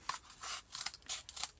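Scissors snip through a flattened cardboard tube in a craft project making yarn hat ornaments, several short crisp cuts in quick succession, close and quiet with no talking.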